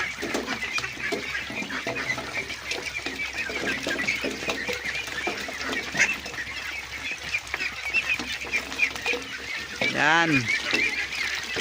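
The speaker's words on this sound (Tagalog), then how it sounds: "Yan patuloy na kumakain talaga ng asula yung ating alagang itik." Domestic ducks feed on azolla with soft, busy dabbling and pecking, and a few honking quacks rise near the end while someone talks over them.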